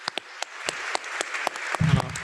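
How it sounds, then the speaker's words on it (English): Scattered, sparse clapping from a small audience after a panel session, a few distinct claps building into a brief, thin round of applause. "can we give them a round of applause?"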